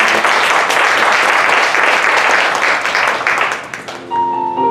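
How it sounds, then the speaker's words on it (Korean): A church congregation claps loudly to welcome the pastor, dense sustained applause that fades out near the end as a low sustained tone rises. "박수로 환영하겠습니다"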